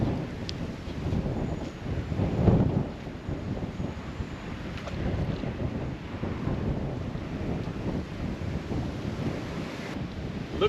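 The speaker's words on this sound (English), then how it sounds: "Looks like Mother Nature is trying to give me a hint with all these winds going on." Strong wind blowing by the Sacramento River, a steady low roar of buffeting gusts on the microphone with a louder surge early on, continuous throughout with no talk.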